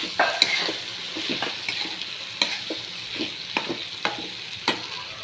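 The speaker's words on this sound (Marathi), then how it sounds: "पण हे ठेच्यामध्ये टाकत आहे कारले भाजून घेतलेले. हे छान परतून घेणार आहोत." Roasted bitter gourd sautéing in a pan for chutney, with a steady sizzle under repeated scraping stirs and clinks of a spatula, close and fairly loud, no talking.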